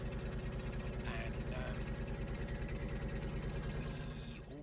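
Noisy tractor engine from Farming Simulator 2015, a loud, steady low rumble with a rapid knocking pulse running throughout, close and continuous, with faint background voice-like sounds over it.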